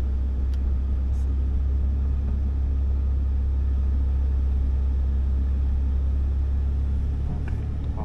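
A Ford Ranger Raptor off-road truck rolls along slowly, its engine a loud, steady low rumble close by that runs throughout, with a faint voice near the end.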